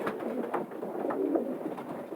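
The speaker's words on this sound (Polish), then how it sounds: "Jest to Erich, typowy gołąb na długi dystans." Long-distance racing pigeons coo softly in repeated low, throaty calls, close by and steady, with no talking.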